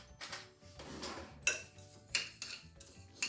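A spoon stirring sliced zucchini with garlic pepper in a dish, giving close, quiet scraping and a few sharp clinks of metal against the dish spread through the stirring.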